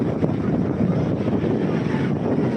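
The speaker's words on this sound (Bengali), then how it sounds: "তার সাথে তেজ হাওয়া চলছে আর গুনগুনা জলের আওয়াজ এটা তো পাচ্ছ তোমরা" Strong wind buffets the microphone with a loud, rumbling roar at Old Digha beach at night, while a broad wash of sea surf churns steadily underneath.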